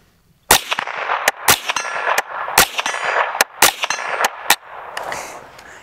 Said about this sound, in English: You can hear just how quiet you can get a 22 shooting subsonic ammo running suppressed